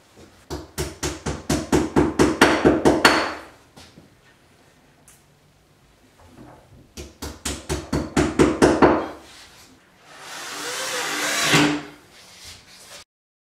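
Wall plugs are hammered into drilled holes in a kitchen wall for fixing base units, sharp close blows coming in two fast accelerating runs of about a dozen strikes each, followed by a longer scraping rustle.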